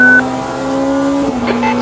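Porsche 963 prototype race car in the sim racing game Le Mans Ultimate at Monza, a steady, loud engine drone with a brief rising note as another car draws alongside.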